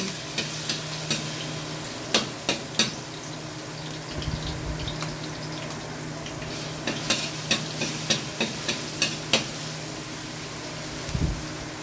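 Garlic hits hot cooking oil for pork and string bean adobo, giving a soft, low sizzle under a series of sharp clicks and taps from utensils scattered across the stretch, close by with no talking.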